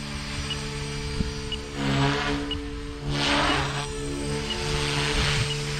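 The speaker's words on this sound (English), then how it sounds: "now this helicopter is much peppier and much more responsive" A small 300X RC helicopter flies close by with a steady high-pitched motor and rotor whine. The pitch swells and dips as the rotor speed shifts, and it is loud and continuous with no talking.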